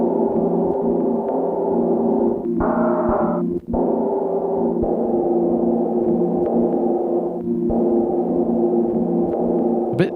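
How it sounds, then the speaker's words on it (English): Wind-like hiss and hum from a cassette tape loop feeding back through a sampler, a steady droning wash with tonal layers that shift in and out, alone without talk. "It's the sound of wind."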